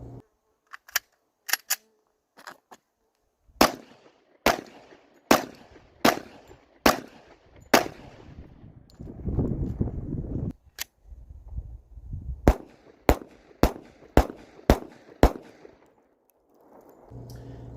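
Handgun shots ring out one at a time in sharp, loud cracks, first a few scattered, then a steady string of evenly spaced rounds, a pause with some rustling and handling, then another rapid series.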